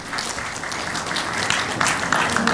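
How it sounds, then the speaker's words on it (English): Applause at a medical fellowship felicitation ceremony, dense continuous clapping from an audience, loud and steady throughout. "A big round of applause to my mentor,"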